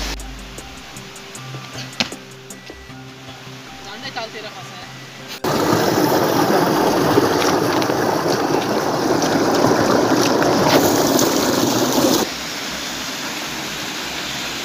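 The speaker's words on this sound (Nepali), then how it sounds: "यो चाहिँ खोला हो" A river flows beside a footbridge in a village, its broad rushing wash loud and steady through the middle of the stretch, then dropping back to a quieter murmur.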